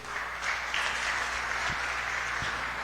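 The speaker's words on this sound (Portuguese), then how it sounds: "Aplaude Jesus pela vida deles." A church congregation applauds during a growth-school class, a steady, even wash of many hands clapping at moderate distance, sustained throughout with no clear speech over it.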